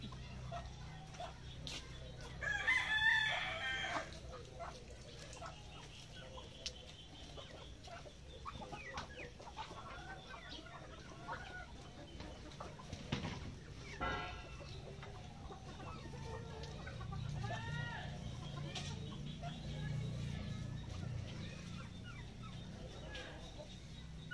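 Chickens and ducks on a provincial farm in Davao clucking and calling near and far while scattered corn grits are eaten, with occasional sharper bird calls and a person speaking now and then over low background noise.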